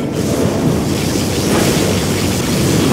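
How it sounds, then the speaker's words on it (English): A particle cannon fires in the Zero Hour strategy game, a dense, rumbling roar that stays loud and steady for a few seconds with no talking. "Particle cannon activated."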